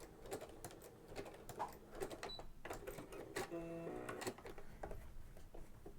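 A sewing machine fitted with a walking foot stitches with the back stitch set to zero. It gives a quiet, steady mechanical whir with clicking needle strokes and a brief tonal hum midway.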